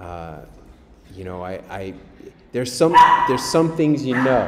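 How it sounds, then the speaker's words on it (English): A pet dog barks and yips in excited bursts during an indoor podcast interview, the barks loud and close and mixing with a man's ongoing speech. "the dog is piping in."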